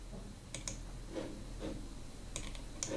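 Several short bursts of keystrokes on a computer keyboard, spaced irregularly over a faint steady background hum, with no speech.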